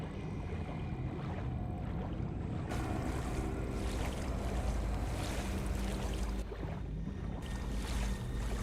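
Continuous watery splashing and rushing of swimming in the video game Tainted Grail: Fall of Avalon, steady and fairly loud throughout, with a constant wash behind it.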